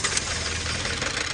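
A Mitsubishi 4D35 diesel engine runs steadily close by, a loud dense knocking rumble with no break.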